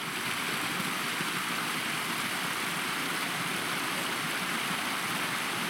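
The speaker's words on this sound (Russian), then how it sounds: "А тут прямо мини-водопадик." A small waterfall on a stream in the steppe makes a steady, close rush of falling water, an even broadband roar that holds without a break.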